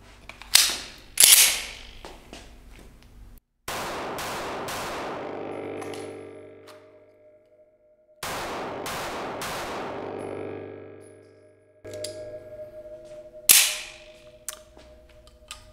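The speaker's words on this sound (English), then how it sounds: "I'm gonna take three shots with the factory macro, and I'm gonna take three follow-up shots with the Icarus grip" Six pistol shots fired outdoors in two groups of three, the first set with the factory Macro grip and the next with an Icarus Precision aluminum grip module; each report is loud and sharp with ringing decay, and a few metallic clicks sit between the groups.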